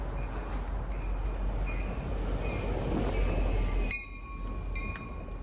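A Readville switcher train, engine 1119, rolls past westbound near the CP3 rail junction on the Grand Junction line. Loud, steady rumble and wheel noise hold close throughout, with faint squealing tones near the end as the train continues past.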